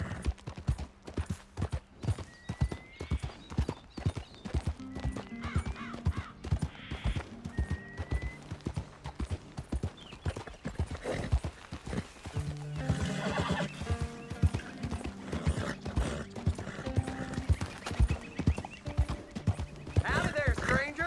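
Horse hooves clop in steady rhythm in Red Dead Redemption 2, punctuated by several neighs and whinnies, with spoken voices and other game sounds layered over the hoofbeats.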